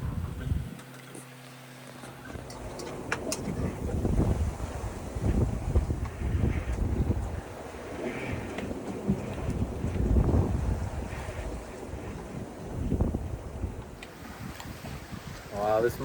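A sailboat runs fast downwind in strong wind, with wind rushing over the microphone and water washing along the hull throughout; a voice speaks intermittently.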